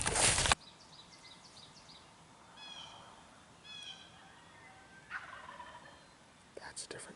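Wild turkeys gobble late in the hunting season in Vermont, with at least two birds present. Several short, distant gobbles ring out one after another over a quiet outdoor background, and a louder burst of noise cuts off at the start.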